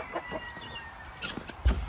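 A rooster clucks and crows nearby in short bursts, with scattered fowl noises and a low thump near the end.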